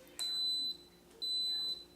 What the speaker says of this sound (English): That was beeping to tell me it's on.